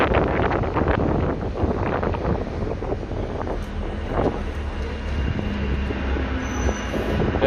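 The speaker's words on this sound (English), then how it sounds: "There's a Manchester tram." A Manchester tram rolls along its rails near a tour bus, a steady broadband rumble of wheels and track with wind buffeting the microphone and a faint squeal near the end.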